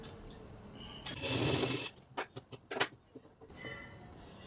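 A sewing machine stitching a blouse front runs in one steady burst, then a few short stitch-by-stitch runs follow, close and clear with no talk.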